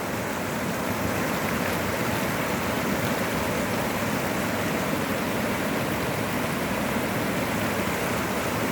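A stream swollen by three days of heavy rain near the Musi river in Hyderabad rushes past, a dense, steady roar of churning water with no pauses, close and loud.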